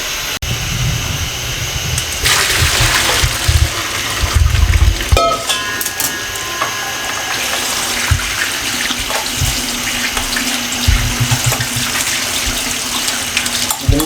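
Cold tap water pours steadily over freshly boiled pasta in a strainer, a continuous broadband splashing and gushing with shifting intensity and brief interruptions, fairly loud and close, with no talking.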